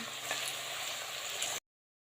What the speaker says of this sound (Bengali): তেল গরম হয়ে গেছে, ঝুরি আলু ভাজাটা কোনাতে দিয়ে দিচ্ছি